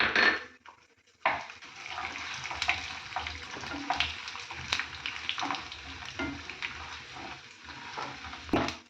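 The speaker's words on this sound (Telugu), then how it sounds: "ఆయిల్ వేడెక్కినాక ఇందులో ఈ పోపు దినుసులను వేసేసాను" Tempering spices crackle and sizzle in hot oil in a pan while making Andhra ginger chutney, with soft spluttering pops and occasional clinks of a utensil against the pan throughout.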